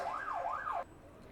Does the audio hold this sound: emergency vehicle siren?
yes